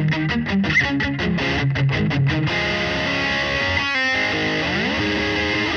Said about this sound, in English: one of my favorite pedals from Wampler, the Pinnacle